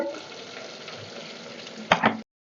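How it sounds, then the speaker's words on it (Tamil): Curry leaves and onions frying in hot oil for biryani give a steady close sizzle, with a sharper crackling burst near the end before it cuts off; no voices. "இப்போ கருவேப்பிலை போட்டுக்கலாம். பெரிய வெங்காயம் 2."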